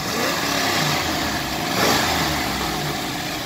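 A 1969 Camaro Z28 V8 idles steadily nearby, a continuous rough engine rumble with a brief swell in the middle and no talking.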